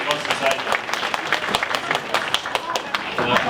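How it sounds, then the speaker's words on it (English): An audience at a 2023 NSW state election candidates' meet-up applauds Labor's Parramatta candidate Donna Davis in dense, steady clapping while a voice talks over it. "So a round of applause for Donna Davis."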